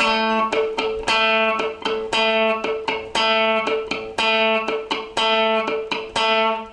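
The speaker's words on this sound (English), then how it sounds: "use the plectrum to pluck down on the note, and then down, and then up on the second click" An electric guitar picked with a plectrum, alternating sustained pitched notes with short muted dead-note clicks in a quick repeating down-down-up rhythm, played alone and up close.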